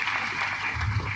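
An audience at a church meeting claps in a dense, continuous round of applause, loud and close, with some voices mixed in.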